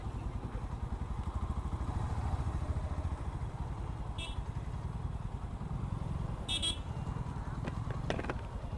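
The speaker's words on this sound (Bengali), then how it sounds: "বাইক, গাড়ি।" Night traffic on a busy city road, with motorcycles and cars droning steadily nearby and a few short horn toots cutting through, plus faint background voices.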